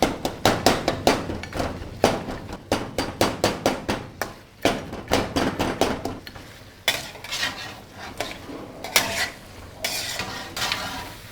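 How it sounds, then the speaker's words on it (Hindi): A metal spoon clatters and scrapes against a cooking pot while pressing tomatoes into ghee for a Shinwari dumba karahi, giving rapid, loud, rhythmic knocks in bursts with brief pauses. "इसको हम मज़ीद जो है तो चम्मच की मदद से इस तरीके से प्रेस करते जाएंगे ताकि टमाटर इसमें बिल्कुल ही मेल्ट हो जाए"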